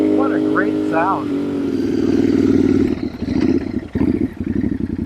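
A Royal Enfield Bear 650 motorcycle fitted with a Dustland shotgun exhaust rumbles up close with a steady, throbbing drone that swells and eases as the throttle shifts, with a voice talking over the start.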